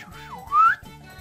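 A short, badly whistled tune wavers up and down in pitch, then rises in a single louder swoop over a low steady background hum.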